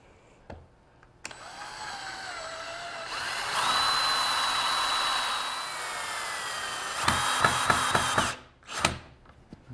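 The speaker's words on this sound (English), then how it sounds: "So you want to drill a hole right there for a screw" A power drill whines steadily for several seconds while drilling a screw hole in wood, rising in pitch as it bites in, then stutters in short bursts before stopping; close and fairly loud.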